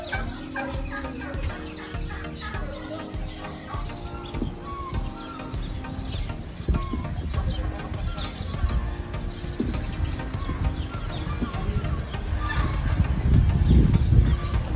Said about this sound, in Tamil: சத்தம் போடுது இந்த கோழி